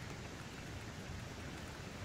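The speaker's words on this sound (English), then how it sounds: "It's really raining cats and dogs outside," Heavy rain falls steadily outside, a dense and constant hiss with no breaks and no voices.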